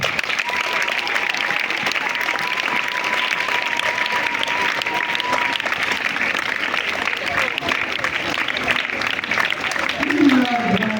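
A large crowd claps steadily for President Félix Tshisekedi at a community visit in Ngaliema, a dense, continuous wash of applause with a faint tonal note in the background, lasting throughout.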